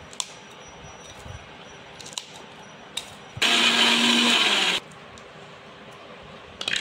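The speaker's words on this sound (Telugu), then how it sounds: "ఈ పచ్చిమిర్చిని కూడా తుంచి కచ్చా పచ్చాగా గ్రైండ్ చేసుకోవాలి ఫ్రెండ్స్" A mixie grinds green chillies coarsely in one steady loud whirring burst of about a second and a half, close by, with quiet room noise and a few small clicks before and after.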